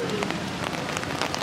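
Rain falls steadily at Disney's Animal Kingdom on a blustery day, a dense patter of drops striking nearby surfaces with scattered louder taps, and faint voices in the background.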